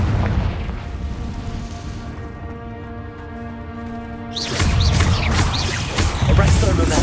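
A Confringo fire spell bursting in the video game Hogwarts Legacy: a sustained tonal hum gives way to a loud, crackling boom that stays noisy and explosive to the end.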